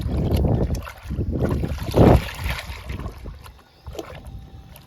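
Groundnut cake liquid is stirred by hand into a bucket holding eight litres of water, producing close, continuous sloshing and swishing with one louder surge of splashing midway.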